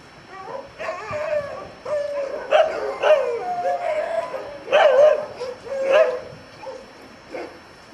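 Sled dogs in Alaska bark and yip in a string of sharp, excited outbursts, several calls overlapping at moderate distance with short pauses between, whimpers and howl-like notes mixed in.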